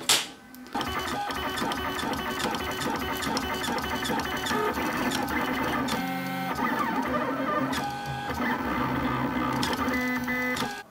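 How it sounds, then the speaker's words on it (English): A 3D printer printing a plastic block for an Iron Man power suit helmet project, its stepper motors whirring and buzzing steadily in a dense, continuous mechanical drone that shifts pitch as the head moves. "So that piece is printed in the 3D printer."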